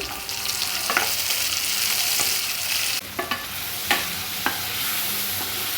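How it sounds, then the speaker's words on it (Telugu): Steady sizzling of tomato pieces frying in a hot pan, with a few sharp clacks of a utensil stirring and scraping through it. "కట్ చేసిన టమాటా పీసులు వేసుకొని వేయించుకోవాలి"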